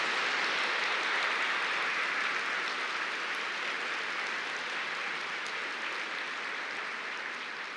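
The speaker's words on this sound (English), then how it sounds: "I'd love to have a round of applause for all of these people who put this event together" Steady, dense audience applause at a Berkeley Law event honoring the organizers, a broad continuous wash of clapping that holds evenly for several seconds and tapers only slightly at the end.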